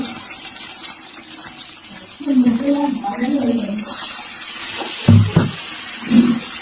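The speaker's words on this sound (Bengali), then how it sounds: "একটু অল্প জল দিলাম কারণ মশলাটা ভালোভাবে আমি কষতে পারবো" A small splash of water is added to spiced masala frying in a pan, giving a brief hissing gush amid kitchen noise, with a voice speaking just before and briefly after.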